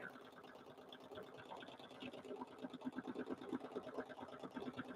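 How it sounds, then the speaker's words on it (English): A sewing machine stitches a small quilted mug rug in free-motion, its needle chattering in a fast steady rhythm that grows louder and more pronounced toward the end, quiet and close with no talk. "I'm just drawing with my sewing machine"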